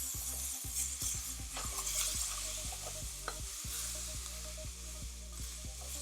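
Vegetables sizzle and fry steadily in a pan while a utensil scrapes and stirs them in a regular rhythm, close and fairly quiet, with no talking.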